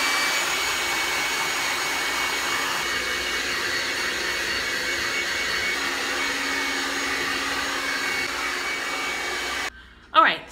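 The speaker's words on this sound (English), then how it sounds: "I'm gonna blow dry it on a low heat and probably on warm, low heat until all the moisture is out of my hair." A handheld blow dryer runs steadily on low warm heat while drying damp hair after a keratin treatment, a constant close whooshing hum that cuts off abruptly near the end.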